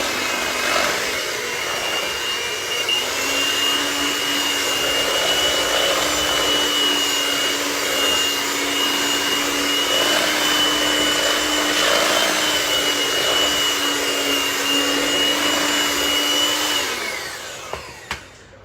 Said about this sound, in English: And you don't want to turn your mixer on high right away.